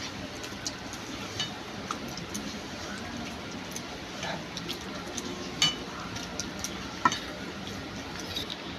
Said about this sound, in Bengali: ভালো করে হাতে করে এইভাবে মেখে নেব